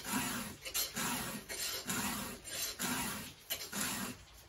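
A round file rasps across the teeth of a small chainsaw chain in regular back-and-forth strokes, about eight close, quiet scrapes with short pauses between them.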